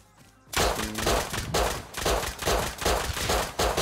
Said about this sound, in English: He's fucking me up with that nail gun, I can't hit.